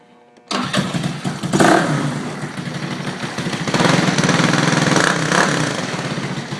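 A motorbike with an aftermarket exhaust, upjetted and with a new variator, starts with a sharp bark, revs a few times and then settles into a rough, loud, throaty idle close by.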